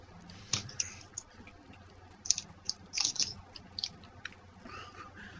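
Someone chewing Ritz Crackerfuls Crunchin' Chili Cheese crackers, with faint, close, crisp crunches and clicks in scattered bursts.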